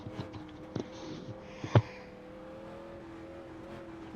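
Street Stock race car engine in a racing video game, a steady sustained drone with shifting harmonic tones, broken by a few sharp transient knocks and a brief louder thump partway through, heard alone with no talk.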